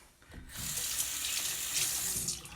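Water runs from a tap for washing the face, a steady close hiss and splash that starts after a brief quiet moment and continues evenly to the end without speech.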